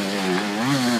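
A KTM 250 dirt bike engine drones at a steady buzzing pitch that rises slightly in the middle, heard close and loud for a brief moment at a swampy outdoor riding spot.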